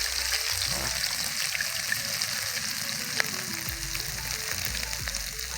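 Homemade ginger garlic paste frying in a pan, a constant loud sizzle throughout with a few faint stirring taps, close and without talk.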